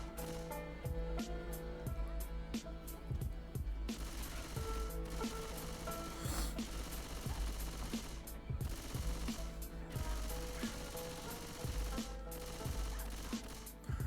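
Rapid video game gunfire in a Left 4 Dead style co-op shooter, with dense rattling bursts and sharp repeated shots layered over a steady background score.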